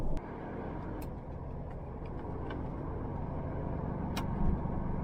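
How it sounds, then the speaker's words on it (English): Road traffic on a dual carriageway heard from inside an HGV cab, a steady low engine rumble with passing vehicles and a few brief clicks, no talk. "There's definitely a little bit of traffic, and no one's gonna want to let me out."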